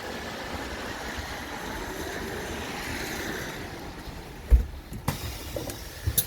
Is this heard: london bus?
yes